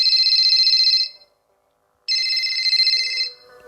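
A telephone rings loudly in two long electronic trills, about a second each, separated by a short silence, with no talking over it.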